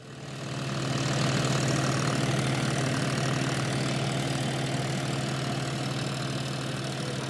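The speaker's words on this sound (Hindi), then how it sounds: "इसकी मड़ाई ट्रैक्टर से की जाती है।" A tractor threshes a freshly harvested mustard crop in a village field, its engine droning steadily and loud from start to finish with a low, even idling rumble and no talk.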